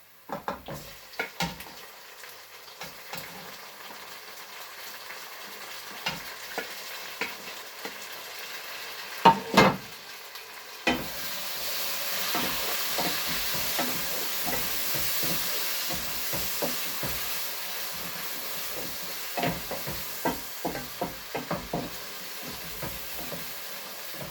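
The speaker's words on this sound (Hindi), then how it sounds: "ये जो अनियन है ये देखिए गोल्डन ब्राउन हो चुका, तो इसमें डालते हैं टमाटर" Tomatoes tipped onto golden-brown fried onions for chicken keema with peas and potato, sizzling and frying steadily with a brief loud clatter midway, then a brighter, denser hiss and scraping stirs throughout, no talking.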